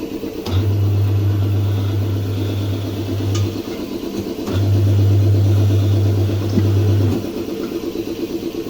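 A tyre changer machine's motor turns to mount a tyre onto a wheel: two loud, close, steady low hums of about three seconds each, separated by a brief pause, over a constant workshop background.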